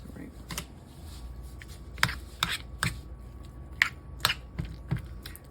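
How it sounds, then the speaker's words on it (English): A knife chopping green onions on a cutting board, with a series of sharp, close knocks in an uneven rhythm, about a dozen cuts spread out with short pauses. "So I got some green onions. I'm just going to chop those up in there."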